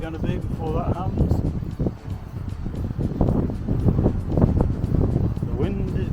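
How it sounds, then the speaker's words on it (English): Outdoor wind buffeting a microphone among swaying trees, heavy low rumbling gusts that rise and fall, with people talking over it. "The wind is blowing, the trees are swaying, and the microphone is taking a bashing."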